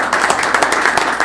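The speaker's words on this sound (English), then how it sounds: "let's give them some applause as well." A brief, dense burst of clapping from people at a government committee meeting, loud and close and lasting just over a second.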